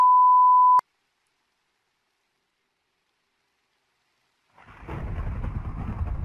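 Rain in the Minecraft video game starts after a short beep and a few seconds of silence, a steady hissing patter that holds at moderate loudness to the end.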